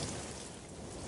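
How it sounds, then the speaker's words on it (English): Steady rain pours down in an even, dense hiss with no distinct drops or thunder, close and fairly quiet, with no voices. "Oh no! Now it's raining."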